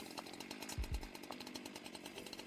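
The chainsaw hand in Sorry We're Closed revs as a quiet, buzzing saw drone with a brief louder low surge near the middle, running steadily with no talk.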